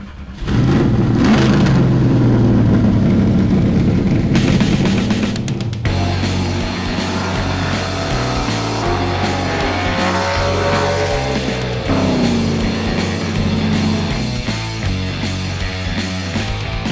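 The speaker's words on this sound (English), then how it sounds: "we can fairly hear the roaring of the cars outside the window" Stock cars race around the Irwindale speedway, a continuous loud engine roar with rising and falling revs as several cars pass, steady throughout with no voices.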